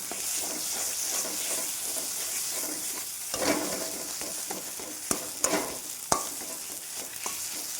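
Pointed gourd mash being stirred and fried in oily wok, continuous sizzle with scraping strokes and several sharp clanks of a spoon against the pan, close by.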